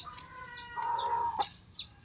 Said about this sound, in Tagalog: Yan po ang manok namin.